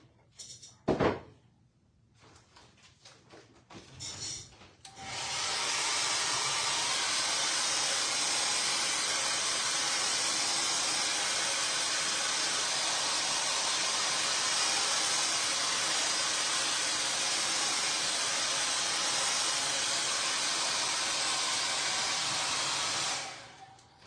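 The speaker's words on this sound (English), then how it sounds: "Do I have my blow dryer over here?" After a few clicks and handling noises, a hair dryer drying a watercolor painting switches on and blows with a loud, constant whooshing roar for nearly twenty seconds before cutting off.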